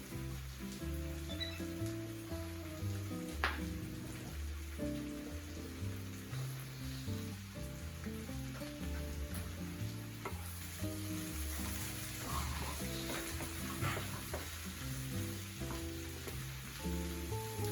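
Potatoes, peppers and onions sizzling and frying in a pan, a steady close crackling hiss throughout with occasional stirring scrapes.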